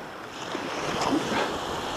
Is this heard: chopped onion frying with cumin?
no